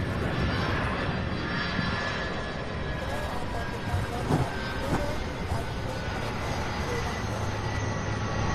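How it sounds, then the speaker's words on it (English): An Airbus A300 arriving from Omaha at Louisville's UPS Worldport gives off a continuous engine roar and broad rumble, close and fairly loud, with a few brief thumps partway through. "here's the A300 out of Omaha"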